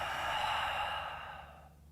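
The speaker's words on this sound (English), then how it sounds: "And then open the mouth, exhale." One long, breathy exhale through an open mouth during a yoga stretch, close and soft, fading out toward the end with no talk.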